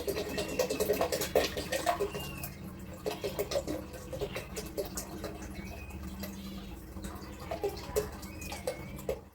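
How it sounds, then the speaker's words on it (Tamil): Holy water gathered at Rameswaram temple is poured into a bottle, giving soft splashing and trickling with scattered drips and gurgles, fairly quiet and close. "ஸோ இந்த பேலன்ஸ் தீர்த்தத்தை ஃபுல்லாக ஊற்றிடலாம்."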